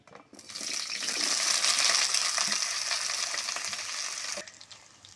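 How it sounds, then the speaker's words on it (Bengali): Jackfruit deep-frying in hot oil sizzles loudly and continuously for several seconds with occasional stirring clinks, then cuts off abruptly. "এবার আমি এঁচড়টা ভেজে নিচ্ছি"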